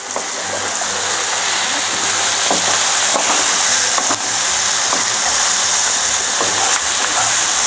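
A pot of chicken paprikash being stirred gives a loud, steady bubbling and sizzling wash with occasional scrapes and clinks from the spoon, close and continuous, with no speech.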